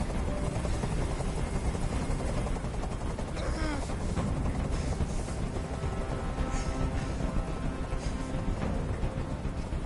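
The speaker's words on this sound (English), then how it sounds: "Tell that helicopter to get out of here!" The constant rotor thrum of a hovering helicopter in the video game Detroit: Become Human dominates, loud and unbroken, with scattered bursts of gunfire and clatter mixed in.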